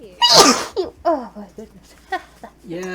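One sharp, loud sneeze bursts out close up, followed by someone talking and laughing briefly.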